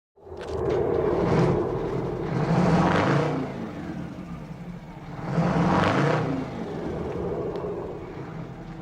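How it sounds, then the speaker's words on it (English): A Western Star truck's Detroit 8V71 diesel engine growls in two long rising surges, a close, deep rumbling roar that swells and eases back to a steady idle-like drone, with no voices. "The truck is powered by a Detroit 8V71 diesel engine, which gave it its iconic growl."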